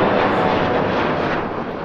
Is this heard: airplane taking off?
yes